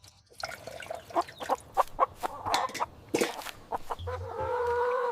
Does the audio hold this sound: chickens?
yes